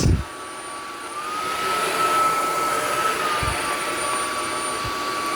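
UWANT D100 wet-dry vacuum cleaner running steadily after sucking up a raw egg with its shell, a continuous whooshing drone with a high whine, close and unbroken, no talking.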